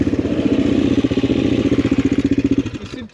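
A motorcycle engine thrums with a loud, rapid, steady pulse while riding, heard close up; the beat loosens briefly near the end before cutting off.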